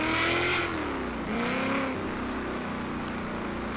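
Engine of a 2000 Mustang SVT Cobra R revving in a driving game, loud and close, rising and falling in pitch over a steady rumble before settling lower.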